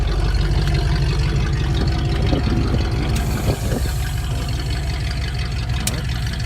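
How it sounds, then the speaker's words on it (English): A 1964 Ford Thunderbird convertible engine idling, a steady low rumble held close and even throughout, with light clicks and faint movement around it. "We literally let the car idle for about a couple of minutes"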